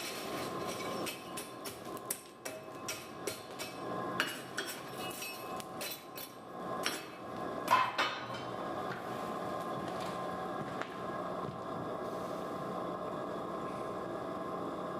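Hot metal is hammered to draw it out at a forge, with a run of ringing, uneven blows for about eight seconds, then only a steady background roar.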